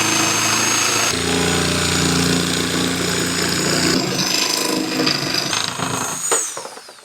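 A loud power tool buzzes and grinds, cutting and sanding a piece of wood for a car trunk, in a continuous drone, shifting in tone before winding down near the end.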